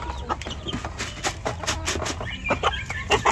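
A big chicken fed in a backyard flock clucks in short, irregular bursts close by over a steady low background hum, with other fowl calling now and then.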